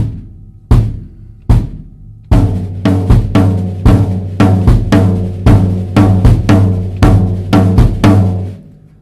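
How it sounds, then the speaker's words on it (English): Jazz drum kit with quarter-note triplets on the floor tom over steady bass drum quarter notes: a few spaced hits at first, then a dense, even stream of resonant tom strokes, close and loud with no talking. "Sounds like this if I do them on the floor tom and keep the quarter notes in the bass drum."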